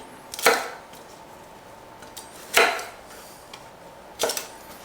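Knife chopping the ends off Brussels sprouts on a board, three separate sharp cuts spaced about two seconds apart, close and crisp against a quiet kitchen background.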